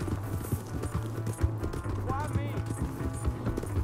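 Horse hooves clip-clopping at a steady running pace in the open-world Western game Red Dead Redemption 2, with people talking over the hoofbeats and a brief whinny-like call midway.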